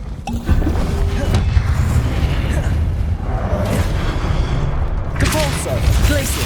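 Magic spell blasts in the Hogwarts Legacy video game: continuous booming impacts and bursts of casting noise, loud and dense throughout, layered over game background sound with no commentary.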